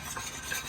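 Brief, soft whisking of a heated plant-based yogurt mixture, a faint scraping swirl of the whisk against the pot with no talking.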